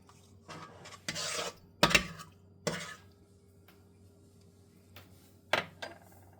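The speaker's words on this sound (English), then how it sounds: "I'm going to give this a stir, and this will sit for about 5 minutes." A spoon scrapes and clinks against a bowl while homemade bagel yeast mixture is stirred, a few separate clattering strokes, fairly close and quiet, with no talk.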